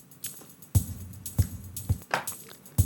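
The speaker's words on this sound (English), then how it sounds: "So you got low tom there." Four or five deep, thumping low tom hits, unprocessed, land at an irregular pace over light percussion.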